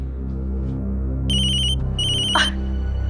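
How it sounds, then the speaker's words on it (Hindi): An electronic phone ringtone chirps in two short bursts over a steady background hum, with a brief rustle near the end. "किसका फोन आ रहा है?"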